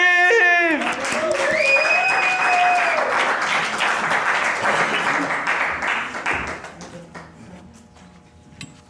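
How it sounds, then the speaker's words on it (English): A poetry slam crowd claps for the poet Rajiv, a broad wash of applause under a sustained tonal voice or whistle at the start, gradually fading toward the end. "manual applause for Rajiv!"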